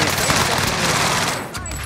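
Rapid, dense gunfire from a shooter video game, a loud continuous burst that eases slightly near the end.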